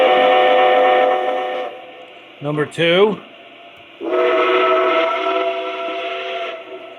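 A Lionel Legacy model of the Pennsylvania Railroad M1 steam locomotive no. 6855 sounds its whistle: two long, loud multi-tone chime blasts, split by a brief spoken remark in between.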